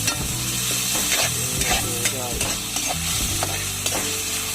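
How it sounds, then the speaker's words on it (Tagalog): Garlic, onion and snail sautéing in a pan outdoors in a forest, a constant loud sizzle with scraping and stirring clatters of the utensil throughout, close up and without speech. "Ilagay na natin yung bawang at sibuyas. Sunod na natin yung ating snail o yung buko."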